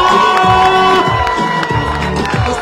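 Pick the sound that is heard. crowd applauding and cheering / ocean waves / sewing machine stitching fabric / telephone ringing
crowd applauding and cheering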